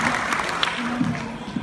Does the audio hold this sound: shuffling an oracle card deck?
no